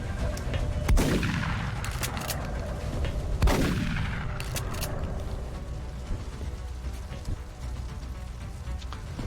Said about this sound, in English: Rapid fire on the ethereal, please.